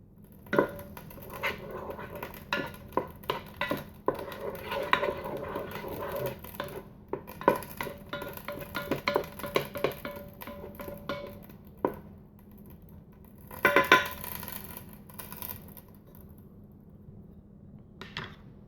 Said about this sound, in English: And let's start sauteing those.